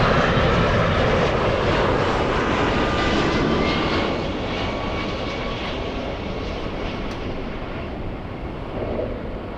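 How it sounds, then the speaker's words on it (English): A large Delta airliner arriving from Boston passes at Los Angeles airport with a loud, broad engine roar that eases slightly partway through and then continues as a steady rumble. "The big Delta flying in from Boston, Massachusetts."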